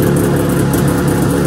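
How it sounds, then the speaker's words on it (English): An engine fitted with dual Mikuni carburetors idles steadily, a loud, unbroken mechanical drone heard close and alone. "it just sits there idling"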